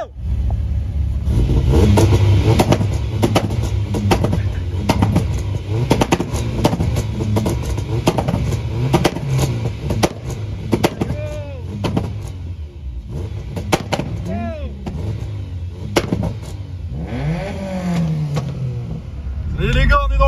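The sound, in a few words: cars driving off in convoy to drift event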